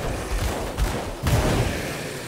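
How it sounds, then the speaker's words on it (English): A burst attack fires a large explosion in the action role-playing game Grim Dawn, heard as dense rumbling blasts and crackling impacts, loud and continuous with two sharper surges. "It's our burst attack, you remember? The giant explosion that we shoot?"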